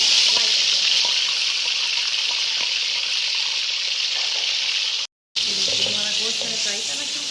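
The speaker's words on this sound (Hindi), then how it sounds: "हमारा गोश्त मैंने फ्राई करना शुरू कर दिया" Mutton fries with whole spices in a loud, continuous sizzle close by, broken by a brief moment of silence before the hissing resumes with faint stirring clicks.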